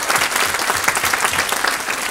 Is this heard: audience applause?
yes